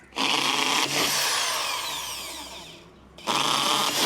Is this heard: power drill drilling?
yes